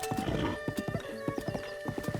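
Horse hooves clip-clop at a steady walking pace on a path in a video game, crisp evenly spaced footfalls heard close up over a faint background tone, with no talking.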